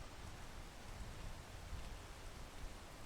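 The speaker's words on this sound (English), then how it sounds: "This is the other problem with the rain. It limits your visibility." Rain falls steadily in the climbing video game Peak, a faint, even hiss of rainfall with no voices over it.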